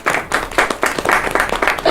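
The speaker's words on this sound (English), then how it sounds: "Congratulations, golf clap" A small group gives a golf clap at an interschool fitness challenge, loose uneven bursts of hand claps close by, with a faint voice mixed in.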